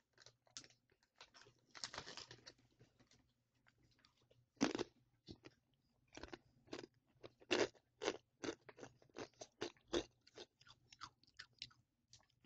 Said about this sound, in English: You're gonna hear a little bit of crunching.